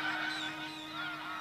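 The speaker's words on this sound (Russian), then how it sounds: "Изредка среди птиц возникает переполох." A flock of geese honks in a noisy commotion, many overlapping calls going on continuously at moderate distance with no talking.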